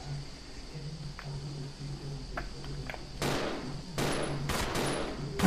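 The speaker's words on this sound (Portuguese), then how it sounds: "Ela olhou, pensou, olhou de novo, resolveu atirar." Gunfire from Rebecca shooting in the video game Resident Evil 0: a few sharp shots arrive in a short burst near the end, after a stretch of quiet ambient hum.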